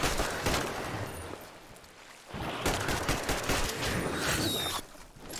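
Gunfire in the video game Metro Exodus, a loud, close fusillade of rapid shots in two sustained bursts separated by a brief lull, with no talking.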